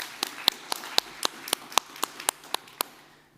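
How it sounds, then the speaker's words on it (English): Crisp single claps tapping out a steady, even rhythm, about four per second, close and distinct against a quiet room with a faint hum, from a conference stage setting honoring event organizers. "Let's give them both a round of applause"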